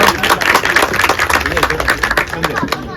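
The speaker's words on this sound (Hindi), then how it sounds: "संजय और उसकी फैमिली के लिए जोरदार तालियां हो जाए" Dense clapping from a gathered crowd at a child care clinic's fifteenth anniversary celebration in Lucknow, steady and fairly loud, honoring a staff member and his family, with voices mixed in.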